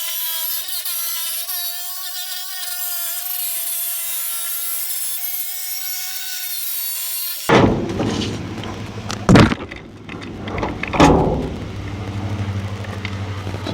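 A saw cuts through the polyplastic rear panel of a camper van, first as a long, steady, high rasping whine, then giving way to rougher scraping, rubbing and knocking as the cut is finished.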